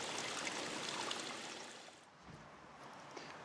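Three automated waterfalls pour from a pool feature wall onto granite tiles below, making a steady, fairly quiet hiss of falling water that dips slightly midway and then continues evenly.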